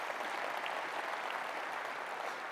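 An audience at the 2023 Illinois state inauguration ceremony claps in a steady, even wash of applause, faint and distant throughout.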